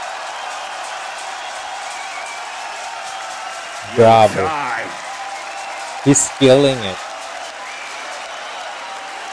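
A crowd applauds and cheers a live beatbox battle performance, steady clapping filling the room throughout while a nearby voice speaks over it twice.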